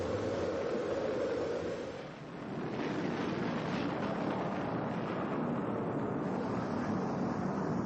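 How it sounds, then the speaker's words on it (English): Archival recording of a space shuttle main engine start at launch: a dense, continuous roar that swells and holds steady at high loudness, broadband and rumbling throughout with no talk. "We've gone for main engine start. We have the start."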